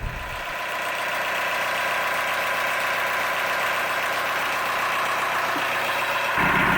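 A narrowboat's diesel engine idles steadily and close, a constant low chugging rumble that runs throughout without any talking.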